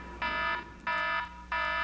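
An electronic alarm sounds in three evenly spaced, bright buzzing beeps, each about a third of a second long, loud and repeating over a low steady hum.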